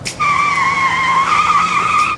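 A red car goes by with its tires skidding and squealing, one loud, sustained screech lasting about two seconds, up close and with no other sound over it.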